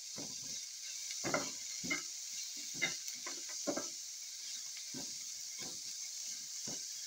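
Eggs frying in a pan after onions, a soft steady sizzle with a hiss under it and scattered crackling pops and bursts of spatter, moderately quiet and close, with no talk.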